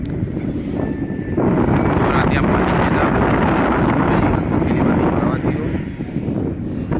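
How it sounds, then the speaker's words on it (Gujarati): Strong wind buffets the microphone in a steady, loud rumbling roar beside the flowing Saraswati river at Siddhpur, with faint voices talking beneath it. "પવન બહુ છે એટલે અવાજ થોડો ઓછો આવશે."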